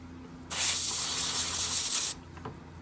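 A Gaahleri Mobius TG .5 airbrush blasts air to clear leftover cleaner from its cup, making one loud, steady hiss of about a second and a half that cuts off abruptly, with nothing else heard.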